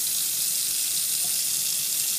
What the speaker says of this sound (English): as you can see the water going in the sink, that's how much water is pumping in my aquarium